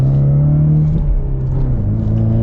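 A Ford Mustang EcoBoost High Performance with a 2.3-liter four-cylinder engine revs loudly and close, a steady droning note that dips mid-way and climbs again; distinct exhaust pops are not clearly picked out.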